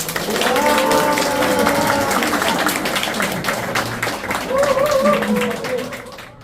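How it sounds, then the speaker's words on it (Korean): Audience at a CEO lecture session applauds to welcome a visiting lecturer, steady clapping throughout with voices talking over it. "힘찬 박수로 맞이해 주십시오"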